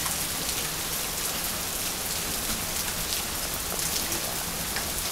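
Hard hail storm pounding down outdoors, a dense, steady roar of ice striking surfaces near and far, continuous and loud across the whole stretch with no voices.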